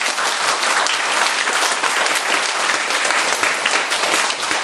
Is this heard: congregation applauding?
yes